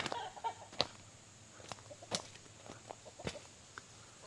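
Soft, scattered clucks from chickens nearby in a chicken run, with occasional sharp taps and light scratching sounds in a quiet outdoor setting.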